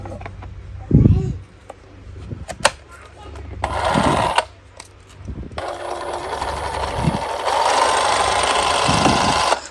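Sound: cordless reciprocating saw running

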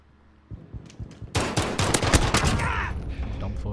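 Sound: gunfire in video game Call of Duty Modern Warfare

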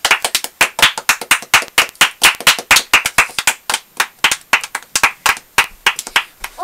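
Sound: applause, clapping for uncle Jason

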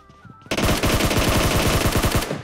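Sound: gunfire in video game PUBG Mobile

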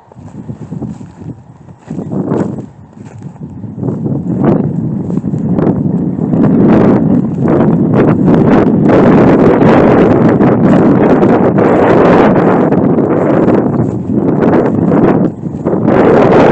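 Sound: wind blowing on a horse trail

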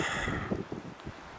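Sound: strong wind

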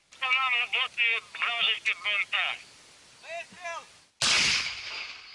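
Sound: artillery or grenade launcher fire and shell impact

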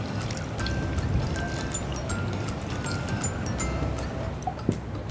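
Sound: pouring water into a pot

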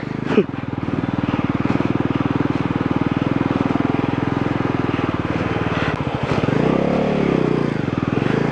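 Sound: motorcycle climbing an off-road trail

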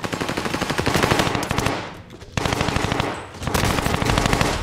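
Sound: gunfire from a gun in video game Call of Duty Vanguard/Warzone

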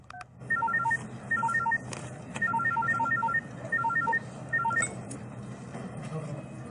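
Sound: telephone dialing and ringing

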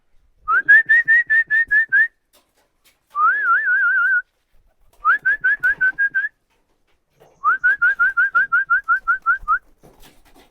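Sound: man whistling to call pigeons home

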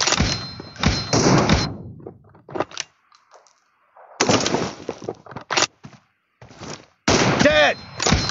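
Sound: gunshots in the video game PUBG

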